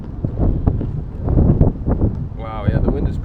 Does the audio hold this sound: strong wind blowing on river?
yes